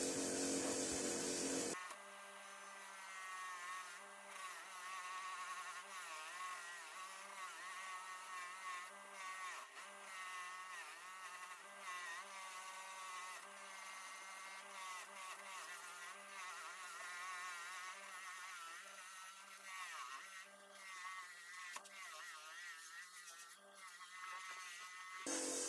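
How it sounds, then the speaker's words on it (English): A wire wheel spins against an old 15-inch Bahco adjustable wrench, scrubbing off rust and long-built-up grime with a steady, loud whining buzz that continues unbroken after a brief start. "Start off on the vicious old wire wheel, really chop through that dirt and grime that's been there a long while."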